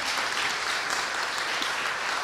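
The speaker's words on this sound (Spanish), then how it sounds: "Yo quiero pedirles un aplauso para la familia" A crowd at a biography book launch applauds a family, a faint, even, continuous patter of many hands heard from a distance with no voices over it.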